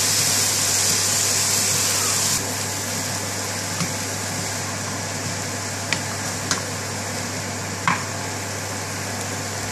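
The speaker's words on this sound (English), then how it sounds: "mix the potato and chickpeas together" Potato and chickpeas are stirred together in a hot pan, a steady hiss of frying filling the clip while occasional sharp clicks of the utensil against the pan stand out.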